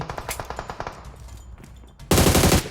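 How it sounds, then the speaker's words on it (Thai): Gunfire in the PUBG Mobile battle royale game: a rapid burst of automatic shots in a quick rhythm, a brief lull, then a sudden loud, dense burst of close fire at the end. "มีเสียงปืนนะครับ ทางซ้ายนะ"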